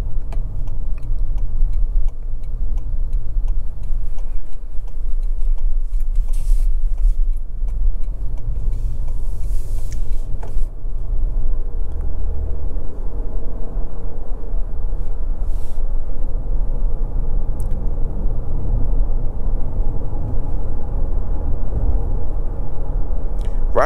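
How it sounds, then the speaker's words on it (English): A 2024 Toyota Grand Highlander Platinum on 20-inch chrome multi-spoke wheels rolls over a choppy road, with a steady low road rumble and engine hum throughout and light ticking and faint clunks over the bumps. "Ride quality isn't too bad. This is a pretty choppy road."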